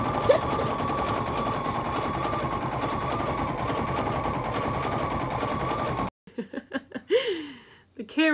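A sewing machine quilting a cherries pillow block runs steadily with a fast, even stitching chatter for several seconds, then stops, followed by brief talk and laughter nearby.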